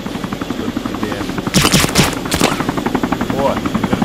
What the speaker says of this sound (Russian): О, вертолет